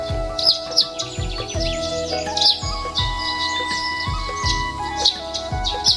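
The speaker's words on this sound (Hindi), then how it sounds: "पक्षियों की चहचहाहट" Birds chirp and tweet in repeated short calls over a steady musical backdrop with soft rhythmic beats, evoking the ancient city of Ayodhya on the banks of the Sarayu river; no one speaks.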